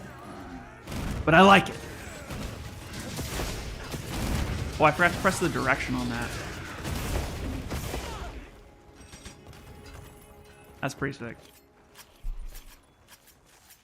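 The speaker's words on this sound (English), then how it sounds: "There's a lot of explosions happening, and I'm not sure which one's mine." Gunlance attacks in Monster Hunter Wilds set off bursts of explosions, several sharp booms scattered among game effects, with someone talking over them at moderate loudness.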